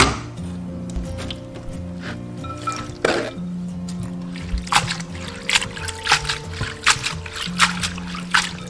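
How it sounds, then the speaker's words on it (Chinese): Shredded potatoes rinsed by hand in clear water, with wet squishing, sloshing and dripping splashes in an irregular rhythm, close and fairly loud. "一定要用清水给它淘洗几遍，把表面的淀粉给它洗干净"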